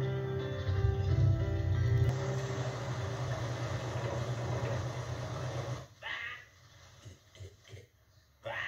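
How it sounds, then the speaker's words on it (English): A canal narrowboat engine turns over and settles into a steady low chugging idle, loud and close at first, then cuts to quieter outdoor sounds with brief voices near the end. "So I'll get the engine started and on my way."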